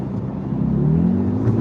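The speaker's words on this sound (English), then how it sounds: "I'm going to go into Sport Plus. Listen to the exhaust note change." A steady low sports car engine drone in Sport Plus mode, rising slightly in pitch, a continuous exhaust hum close by with no talking, in Dubai.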